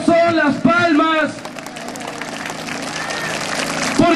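Crowd applause at an outdoor Inti Raymi festival at the Fortaleza de Campoy, with clapping and general crowd noise continuing beneath someone speaking over a loudspeaker at the start.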